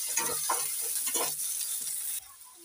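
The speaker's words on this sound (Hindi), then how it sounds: "तो प्याज को थोड़ा हम सॉफ्ट होने तक भून लेते हैं।" Chopped medium onion sizzles in a hot pan while being stirred, a close, steady frying hiss with a few scraping stirs, then it settles to a quieter sizzle.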